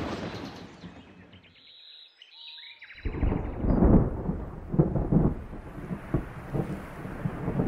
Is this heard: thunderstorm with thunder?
yes